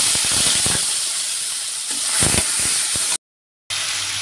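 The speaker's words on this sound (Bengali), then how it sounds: "তেলটা এখন আমার গরম হয়ে গেছে। এখন আমি চিংড়ি মাছটা ভেজে নেব।" Prawns hit hot oil in a pan, setting off a loud, close, steady hissing sizzle that cuts out to brief silence, then returns more quietly.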